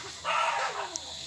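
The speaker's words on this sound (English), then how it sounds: "Sorry about that, that is just my damn dogs." Dogs barking indoors: one short, fairly close burst of barks lasting under a second, then quiet.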